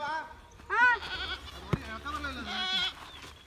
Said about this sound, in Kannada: ನೋಡಿ ಮೇಕೆಗಳನ್ನ ಕರ್ಕೊಂಡೋಯ್ತವ್ರು ನಮ್ಮ ಮಾಮ.